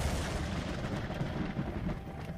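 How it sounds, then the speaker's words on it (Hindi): Continuous low rumbling thunder, a heavy unbroken roll of deep booming noise that stays loud and steady throughout, with no voices present. "आसपास बिजली कड़क रही थी।"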